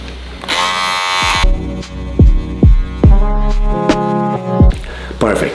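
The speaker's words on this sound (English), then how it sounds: "I'm going to blend a little bit more the edges here. And for that, I'm going to use a smaller number to my beard trimmer." Electric beard trimmer buzzing steadily up close while edging a beard, its hum rising and dipping in repeated short passes.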